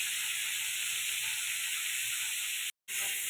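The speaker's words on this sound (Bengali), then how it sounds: "সবজিগুলোকে ভালো করে লাল করে ভেজে নিব।" Mixed vegetables for moong dal sizzle and fry steadily in a pan with salt and turmeric, a continuous close bright hiss that cuts out briefly near the end.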